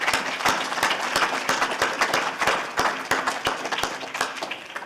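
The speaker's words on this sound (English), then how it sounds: "let's give a round of applause to everybody who prepared this beautiful meal" A group applauds the people who prepared a Shabbat lunch, a dense, steady patter of many hands clapping at close range.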